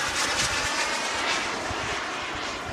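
A jet aircraft flying at an air show with its smoke on, a broad, steady roar that fills the whole clip with no break or pause.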